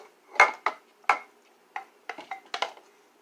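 A bowl of spiced food is scraped and knocked against a crock pot. Several sharp clinks and clatters of dishware come at uneven intervals, close and moderately loud, with no talking.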